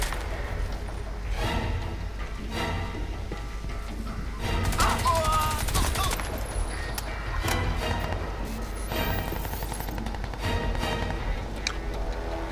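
Gunfire in the Crysis 2 video game sounds as repeated shots and impacts through a steady loud mix of game noise, with a denser burst near the middle and someone speaking French over it.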